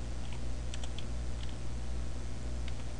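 Typing on a computer keyboard while writing a document in LibreOffice Writer on Linux: sparse, faint key clicks scattered over a steady low electrical hum, with no voices.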